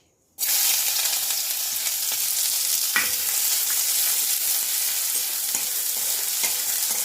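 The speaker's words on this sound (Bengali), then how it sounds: "পেঁয়াজ কুচি আছে পেঁয়াজ কুচিটা আমি দিয়ে দিচ্ছি" Chopped onion hits hot oil already tempered with cumin seeds and bay leaf, a Bengali elephant-foot yam and prawn curry in progress. It bursts into a loud, steady, close sizzle that holds unbroken throughout.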